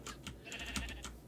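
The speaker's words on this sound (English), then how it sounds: "I heard a sheep." Sheep bleating in the video game Minecraft, a few short close bleats over a faint steady background, with light clicking sounds mixed in.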